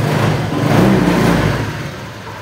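A fuel-injected Honda motorcycle engine runs steadily at close range on level ground in Jakarta, a loud continuous low rumble that swells briefly and then eases back, with no voices.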